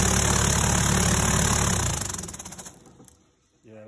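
A DIY trough-style vibratory tumbler loaded with stainless archery parts runs with a loud, dense rattling hum, then winds down and fades toward silence.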